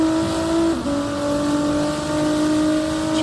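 A Ferrari 458 race car in a racing video game, its engine screaming at high revs with a steady sustained tone, a brief dip during a gearshift, then the loud close note climbing again.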